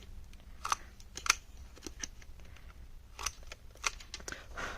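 Scissors cutting paper card for a mixed media journal, giving a series of soft snips and crisp clicks at irregular intervals over a faint background hiss, close and fairly quiet.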